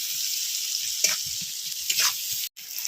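Onions frying in a pan with ginger-garlic paste and masala, a steady close sizzle with a few soft stirring scrapes and one brief dropout near the end.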